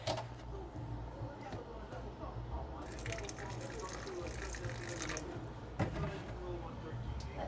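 Tap water runs steadily into a sink as potted plants are watered indoors, a continuous faint splashing and trickling with occasional clunks and a person speaking over it.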